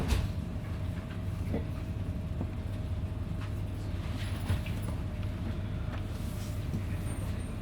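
Inside a Southeastern train pulling into Walmer station, a steady, dense rumble of wheels and carriage noise fills the space, with faint clicks and a thin whine over it.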